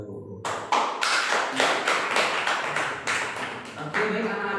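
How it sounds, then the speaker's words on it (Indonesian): Applause for a student teacher in a micro-teaching class, a run of broadband hand claps in uneven bursts through the whole clip, fairly close and steady with some voices mixed in. "kita berikan tepuk tangan kepada Mas Isan terlebih dahulu"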